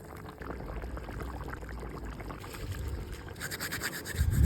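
Basmati rice, double-parboiled, rinsed with water in a kitchen while cooking veal plov; steady close pouring and swishing water with a rubbing grain texture, louder near the end, no talking.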